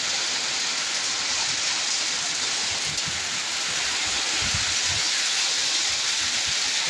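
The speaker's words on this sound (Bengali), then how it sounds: "এই যে দেখেন এই পুরো ঝড় ছাড়ছে," A Kalbaishakhi storm pours heavy rain and hail in Barisal, a dense, loud, continuous roar of water and ice pelting surfaces with no break.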